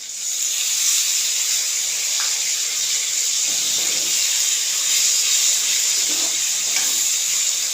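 Poppy and mustard paste hits a pan of lightly fried okra with salt, turmeric and a little sugar, giving a steady close hiss and sizzle throughout with no talk.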